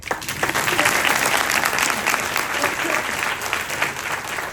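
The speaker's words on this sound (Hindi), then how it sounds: "जोर से ताली बजाइए।" An audience at a Governor's address on Lord Mahavir's philosophy breaks into loud, dense applause, a steady wash of clapping lasting several seconds with no talking over it.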